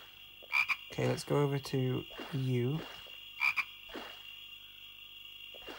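Frog croaks in the PS1 game Gold and Glory: The Road to El Dorado, a few short low croaks sounding around a man's brief speech over a steady jungle ambient tone.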